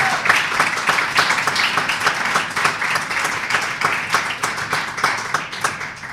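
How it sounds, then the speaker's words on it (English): Audience giving a round of applause at a live podcast taping, lively dense clapping with distinct nearby hand claps over the crowd, loud and continuous for several seconds without talking. "Let's give another round of applause."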